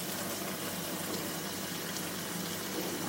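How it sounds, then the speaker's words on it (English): Water poured over mung bean sprouts, a steady soft splashing wash that runs continuously and evenly throughout, fairly quiet with no voices. "This one you pour water."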